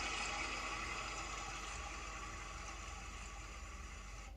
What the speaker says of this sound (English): And you can turn on a flushing sound and turn it off.